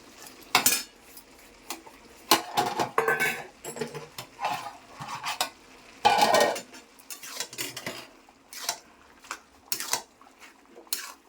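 Fried prawns go into a pot of bottle gourd and are stirred with a metal utensil, producing irregular near scraping and clinking strokes against the pot with brief pauses between, no talk.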